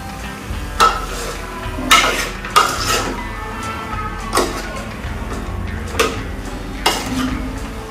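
Spinach sizzles in a pan for Telugu palakura ullikaram while a utensil stirs and scrapes it, making sharp clanks and scrapes at irregular intervals over a steady frying hiss.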